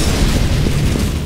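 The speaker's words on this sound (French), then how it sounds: "Throwing flashbang." A flashbang grenade goes off in CS:GO as a dense, loud, low rumbling boom with a steady roar that carries through the short moment without speech.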